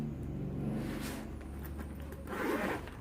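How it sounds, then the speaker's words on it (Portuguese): A large fabric bag is unzipped, giving a couple of raspy zipper pulls close to the mic that stop and start. "Você abre a bolsa, esse é o canal do zíper."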